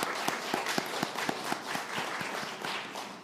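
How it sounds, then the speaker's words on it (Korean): A church congregation claps together during a Sunday worship service, a moderate round of applause with distinct individual claps in a loose steady rhythm, fairly close and lasting a few seconds. "박수 해주시기 바랍니다."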